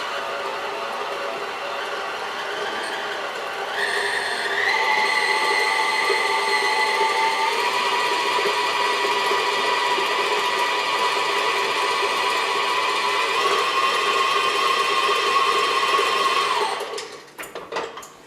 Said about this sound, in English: That's another thing I think I love about mixing it all within my mixer.